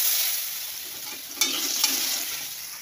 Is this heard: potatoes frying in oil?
yes